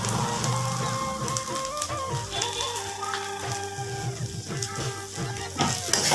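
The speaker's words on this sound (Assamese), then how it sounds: "এইখিনি দি এনেকৈ অলপ ভালদৰে লৰাই ল'ম" Spices with salt and turmeric being stirred in a hot sizzling pan, continuous frying crackle with scraping stir strokes, close and fairly loud with no talk.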